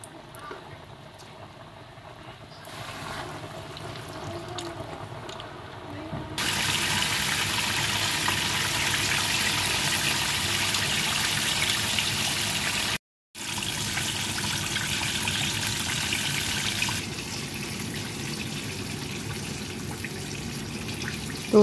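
Pieces of chicken frying in hot oil on a home stove, a steady loud sizzle and crackle that rises sharply partway through and holds on, with a brief cut before it continues.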